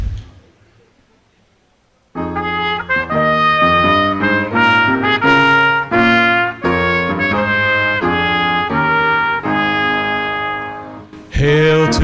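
A piano plays at a John Carroll University convocation, a short stretch of near silence giving way to loud sustained chords and a melodic line in steady rhythm, fading before a new burst of sound.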